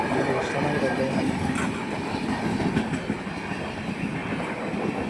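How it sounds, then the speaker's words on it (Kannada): Shatabdi Express from Chennai Central to Mysuru passes at Nayandahalli, heard from aboard another train as a continuous loud rolling rumble with rattling wheels and clatter. "ನಾಯಂಡಹಳ್ಳಿಯಲ್ಲಿ ನಮ್ಮ ಟ್ರೈನ್ ಒಂದು ಕ್ರಾಸ್ ಆಗ್ತದೆ ನೋಡಿ"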